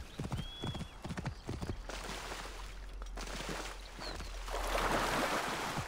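A horse's hooves clip-clop in Assassin's Creed Origins, with a quick run of close, rhythmic hoof strikes at the start that fades into rushing ambience and a brief whinny-like cry.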